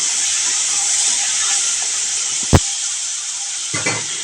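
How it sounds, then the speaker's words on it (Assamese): Tomatoes with ground ginger fry in a pan, giving a loud, steady hiss and sizzle close by. Two brief knocks of a utensil against the pan break in near the end. "বিলাহী দিয়াৰ পিছত অকণমান ভাজি পেলাই তাতে পিচি থোৱা আদা আৰু"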